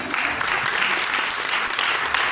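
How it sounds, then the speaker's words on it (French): Loud, dense applause from an audience at the inauguration of a small FM radio station, a continuous close roar of many hands clapping that holds steady from start to end. "on peut l'applaudir"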